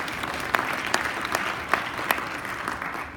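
Sparse audience clapping during a high school leadership award speech, a handful of hands producing irregular claps over a faint room murmur, fairly distant and brief.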